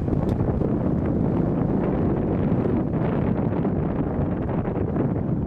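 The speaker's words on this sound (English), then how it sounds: "There'd be a cold wind today." Cold wind blowing steadily on an outdoor morning, a constant loud rush buffeting the microphone with no letup and no talking.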